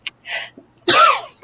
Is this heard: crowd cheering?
no